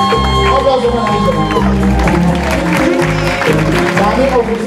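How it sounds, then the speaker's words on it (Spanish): Audience applause at a fashion show, steady broadband clapping from a crowd with cheering mixed in, loud and continuous throughout, with a voice speaking over it. "Un aplauso para ti."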